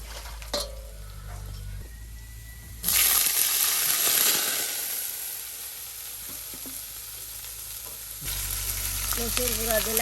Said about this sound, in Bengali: পেঁয়াজটা এখন তেলের সাথে ভাজা ভাজা করে নেওয়া হচ্ছে।